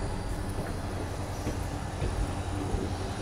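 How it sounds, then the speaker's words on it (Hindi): Barmer Mathura Express train pulling away from a small, dark railway station at night, a steady loud rumble of rolling wagons with faint clatter throughout and no talking. "ट्रेन चल गई"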